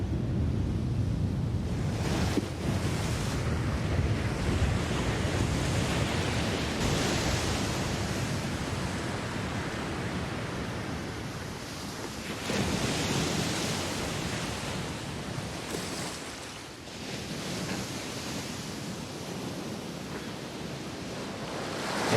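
Ocean surf breaks on Omaha Beach, a broad steady roar of waves with a few louder surges and some wind buffeting, continuous and without voices.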